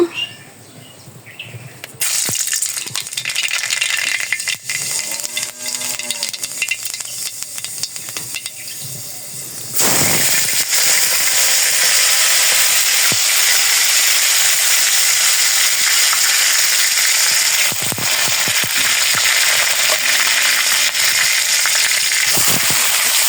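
Black cumin seeds crackle and sizzle in hot oil for a tempering, a loud, dense, continuous hiss that surges stronger partway through, heard close up with faint tonal chirps in the background.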